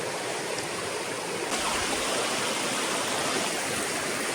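A creek flows steadily nearby, a continuous even rush and babble of water at moderate level with no voices over it.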